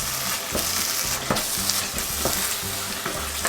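Chili powder, paprika and garam masala stirred into sizzling butter chicken in a pan, a constant frying hiss with steady rhythmic spoon scrapes, close and clear, without speech.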